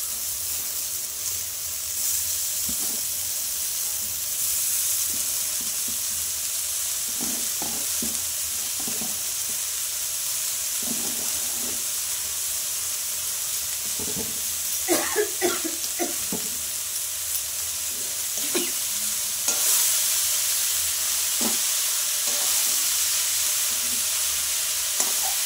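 Khesari greens fry in a hot pan with a steady, close sizzle and hiss, broken by stirring clatter and scraping that grows busier midway through, with no voices.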